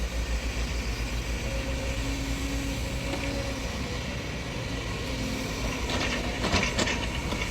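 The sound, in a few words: SANY SY excavators moving soil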